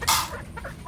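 A large hen gives a loud burst of clucking, followed by a few softer, shorter clucks close by.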